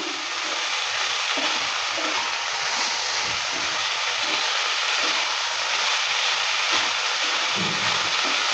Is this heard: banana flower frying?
yes